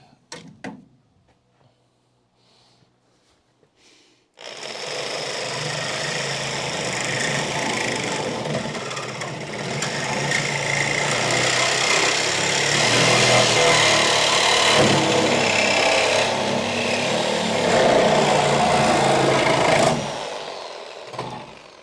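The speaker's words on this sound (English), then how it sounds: "I'm getting in there with the reciprocating saw again." A reciprocating saw cuts through the body of a Dodge Charger being built into a crew cab, starting after a few quiet seconds and then running as a loud, continuous rasping roar for about sixteen seconds before stopping.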